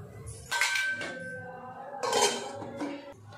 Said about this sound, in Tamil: இப்போ ஒரு மூடி போட்டு வேக வச்சிரலாம்